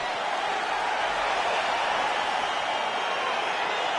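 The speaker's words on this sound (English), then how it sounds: "crowd getting excited as this fight gets underway" Crowd noise in the UFC 4 video game, a steady broad roar of an arena audience building excitement as a light heavyweight fight begins, continuous and fairly even throughout with no distinct voices standing out.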